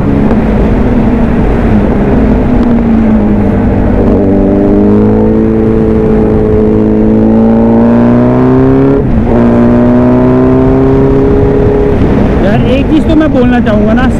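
A Kawasaki Z900 motorcycle engine drones loudly and continuously while riding, its pitch rising and falling as it revs up and eases off, with the sustained tone climbing steeply near the end.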